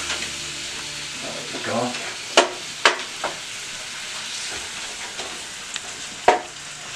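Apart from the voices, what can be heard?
meat frying in a pan for spaghetti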